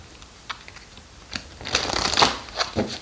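Tarot cards are shuffled close up, with soft scattered riffles building into a denser flurry of flicking and slapping card sounds near the end, and no talk.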